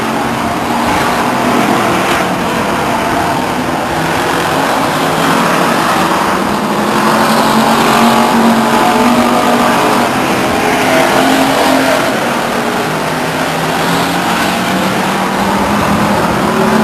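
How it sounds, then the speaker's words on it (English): Stock cars race at Stockton 99 Speedway, a continuous loud engine roar from the pack circulating the oval, with rising and falling revs and no voices over it. "Goes around the 15 car of Charlie Clausen for second place"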